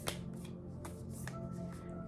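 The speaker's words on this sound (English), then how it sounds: "I'm shuffling the cards." Quiet riffling and soft snapping flicks of cards being shuffled, several short bursts close up against a low background hum.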